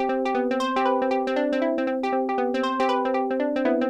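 A synth pluck with the Parsec 8 sequence modulator switched off plays a fast, even pattern of bright, short notes, sustained and close with no pauses.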